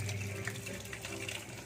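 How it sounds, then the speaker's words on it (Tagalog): Water pours steadily into a cooking pot, a continuous close splashing and gushing stream with no pauses. "Lagyan natin siya ng tubig."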